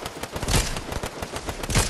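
Gunfire in Fortnite crackles in rapid, uneven bursts of close shots, with sharp repeated cracks coming thick and fast for a couple of seconds.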